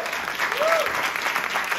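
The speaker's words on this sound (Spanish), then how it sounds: "Un aplauso para ustedes que vinieron esta noche" Comedy show audience clapping loudly and continuously for a short burst, with a brief whistle-like tone rising and falling above the applause.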